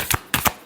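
Tarot cards get shuffled in a few quick riffling bursts, three or four short papery flutters close up with brief gaps between them.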